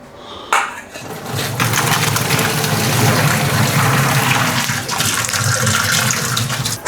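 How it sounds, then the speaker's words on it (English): Cooked pasta being drained: a steady rushing pour of water into a sink runs for several seconds after a brief clatter, loud and close, with no voices. "So gotta drain the pasta."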